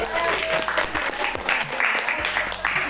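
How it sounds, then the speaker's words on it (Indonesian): A class audience in a school classroom breaks into brisk, close clapping that lasts a few seconds, with voices audible under the applause. "tepuk tangan buat Putri."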